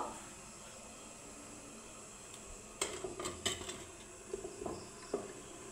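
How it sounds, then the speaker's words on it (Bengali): An idli batter plate set into a preheated idli maker pot holding a little water, a few light metallic clinks and knocks close by over steady background hiss. "ইডলি মেকারে আগের থেকে একটু সামান্য জল দিয়ে আমি গরম করে নিয়েছি, এখন কিন্তু এটা বসিয়ে দিব"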